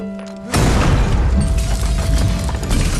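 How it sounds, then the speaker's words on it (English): Movie gunfire rips through a window: after a quiet opening, a sudden loud burst of shots and crashing breaks out and keeps up as a dense, continuous barrage of impacts. "bullets shot through the window and a shadow darted past"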